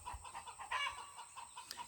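Backyard chickens kept for eggs cluck in short, scattered bursts, with one louder squawk partway through and fainter calls around it, close by with no voices.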